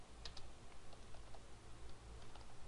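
Rapid, soft keystrokes come from a computer keyboard as data is typed into a form. The clicking is faint but steady and close, with no talk over it.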